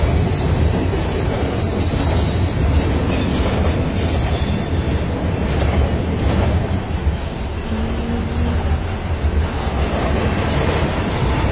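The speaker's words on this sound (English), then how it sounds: "This is a car hauler train." A long CN car hauler freight train with autorack and mixed freight cars rolls past in Richmond, Michigan, a continuous close rumble of wheels and railcars with clickety-clack, faint squeals and steady clanking throughout.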